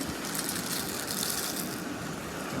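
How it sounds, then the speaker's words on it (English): Dry soup mix poured into a pot of water coming to a boil on an Ozark Trail camp stove, a steady dense hissing rush lasting a few seconds, close and continuous with no talking. "I'm gonna go ahead and pour this soup mix in"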